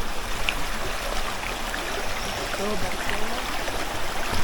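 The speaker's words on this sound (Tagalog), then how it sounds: "isa ito sa mga ilog na tatawarin nyo papunta doon sa falls" A river stream in Baleno, Masbate, Philippines, on the way to a waterfall, a steady rushing of flowing water that stays continuous and fairly loud throughout.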